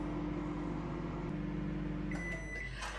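Low steady hum of a microwave oven steaming baby potatoes, then a clear electronic beep near the end as it finishes.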